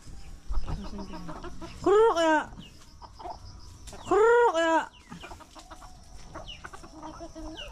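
A chicken clucking nearby in a rural Mindanao yard, with two loud drawn-out squawking calls standing out over low chatter and background noise, while people talk.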